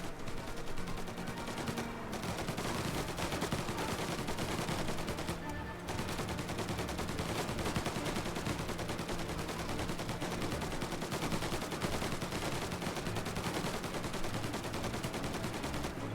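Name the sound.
gunfire in the video game Mafia: Definitive Edition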